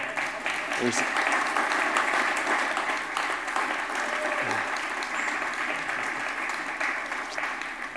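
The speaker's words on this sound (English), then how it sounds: "if we can get a round of applause for the talent that we had" Sustained applause from an investor summit audience fills the room, a dense, even wash of many hands clapping that holds steady throughout.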